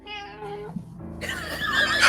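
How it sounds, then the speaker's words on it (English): A cat meows in the horror video game 10 Candles, a drawn-out harmonic cry followed by a louder, brighter, strained yowl rising toward the end, heard fairly close. "where did that cat come from?"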